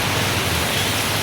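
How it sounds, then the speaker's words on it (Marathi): Heavy rain falls outside as a dense, unbroken roaring wash of noise, loud and close for a brief moment with no voices. "खूप जास्त पाऊस चालू आहे"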